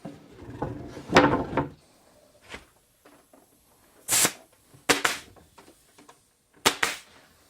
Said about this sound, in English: And I'm just going to shoot some staples.